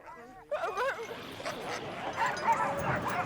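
Huskies at a sled dog kennel in Longyearbyen, Svalbard, yip, whine and bark excitedly in an overlapping chorus, close and continuous, with a voice briefly audible.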